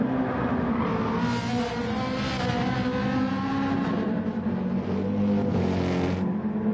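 Porsche GTE race car in a racing video game, its engine howling loudly and steadily at high revs with shifting pitch as it drives past, no talk.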